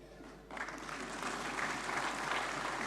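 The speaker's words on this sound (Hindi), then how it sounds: "ताली बज गई हो तो मैं बताऊं," Audience applause at a national cooperative banking conference, rising abruptly to a steady, dense clapping from a large crowd heard at a distance, with no talk over it.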